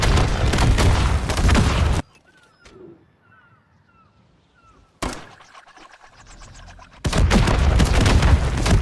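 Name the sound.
gunfire and explosions in Modern Warfare III video game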